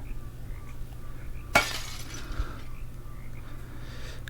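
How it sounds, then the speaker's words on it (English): Glass shatters in a video game, one sharp, bright crash with a brief tinkling tail, followed by low, quiet background hum. "Climb out, mind the broken glass."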